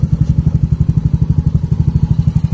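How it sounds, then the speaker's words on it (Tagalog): A Yamaha Mio M3 scooter engine runs at a steady idle close by, a loud, even low-pitched putter pulsing about ten times a second with mechanical clatter on top. "Start natin yung motor."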